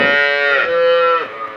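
Milk cow on a cattle market lot giving a single loud, close, drawn-out moo that holds steady and then drops off near the end.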